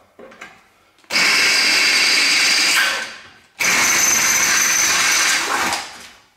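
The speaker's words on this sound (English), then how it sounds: "I'll come along with a drill and just open these holes up" A power drill whirs loudly in two long bursts of about two seconds each, drilling out holes in metal on a 1930s Citroen pickup, separated by a short pause, close up and steady.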